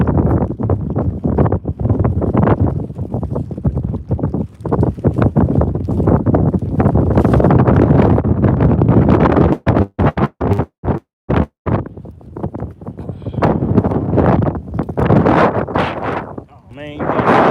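Strong wind buffets the microphone on open water during a bass fishing tournament on Lake Sinclair, loud roaring gusts with brief drops, alongside an idling boat and intermittent talk.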